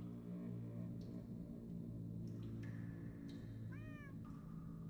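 Cats meow in the Minecraft Story Mode video game, a few short rising-falling calls near the end over a steady, fairly quiet game soundtrack drone.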